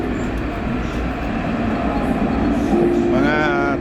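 A tram rides from the port late at night, a loud, continuous rolling rumble of wheels and car body, with people talking nearby toward the end.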